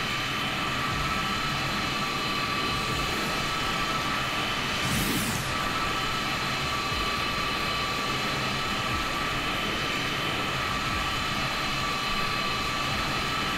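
Engines of a C-17 transport aircraft in Microsoft Flight Simulator give a constant, dense roaring drone that stays level and unbroken throughout.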